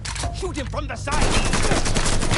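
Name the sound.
gunfire in Mafia III (video game)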